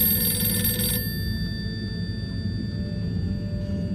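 A red telephone rings inside the video game Harold Halibut, an electronic ringing tone that sounds for about a second before fading out over a low background hum.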